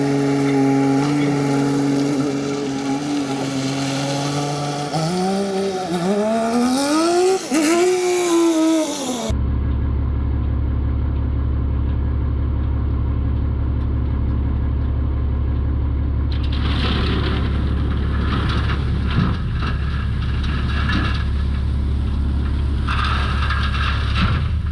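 A Kubota SVL 90-2 track loader spreading stone, its diesel engine loud and close, rising and falling with load before settling into a steady rumble with clattering and scraping bursts.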